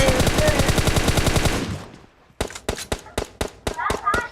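Automatic gunfire from the mobile battle-royale game PUBG Mobile, a dense rapid burst followed by a pause and then a string of sharp separate shots, loud and close.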